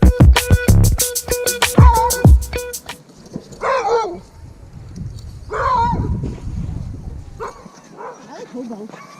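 Sled dogs bark in quick repeated yaps while people talk over them, and more scattered barks and yips follow at a moderate distance.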